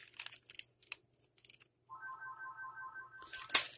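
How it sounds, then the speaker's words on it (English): A phone ringing in a home kitchen during a grocery haul, a bright electronic ring tone starting partway through and holding steady, near and moderately loud, after some rustling and handling noises. "And of course my phone's going to ring."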